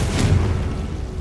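Confringo fire spell explosion in Hogwarts Legacy, a single loud, deep boom that rumbles and fades over about a second.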